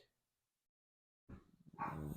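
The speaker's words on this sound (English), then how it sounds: "Dogs are barking and trying to run out the door when he opened it." After a stretch of silence, dogs start barking indoors, a burst of muffled barks and growly yelps that grows louder toward the end.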